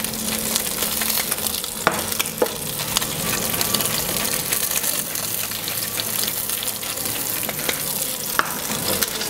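Steady sizzling and frying of octopus in a hot pan, with occasional light clinks and scrapes over the continuous crackle.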